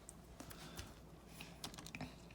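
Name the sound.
typing on a calculator's buttons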